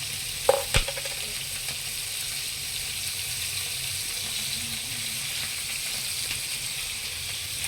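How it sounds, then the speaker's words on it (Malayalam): Sardine roe fries in a pan with a steady, even sizzling hiss that follows a couple of sharp clinks at the start and continues unbroken without talk. "നമ്മുടെ മത്തിമുട്ട നന്നായി പൊട്ടാതെ തന്നെ ഫുള്ളായിട്ടൊന്ന് നമുക്ക് പൊരിച്ചെടുക്കാം"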